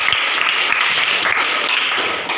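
Classroom applause as students clap together in a brief, dense burst of overlapping hand claps that stays steady and fairly loud throughout.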